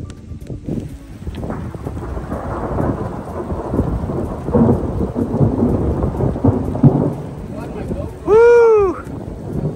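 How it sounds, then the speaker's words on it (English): Thunder rumbles through a heavy rainstorm at an outdoor log home deck and subfloor build in Montana, a continuous roar of rain with rolling thunder, and a brief tonal squeal near the end. "Thunder and lightning."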